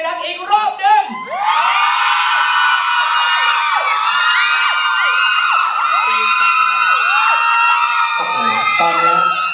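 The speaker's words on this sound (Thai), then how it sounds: "ขอกรี๊ดให้รักอีกรอบหนึ่ง" Live audience at a Thai brand fan event screams and cheers loudly and continuously, with high-pitched shrieks and whoops that rise sharply after a brief opening and sustain throughout.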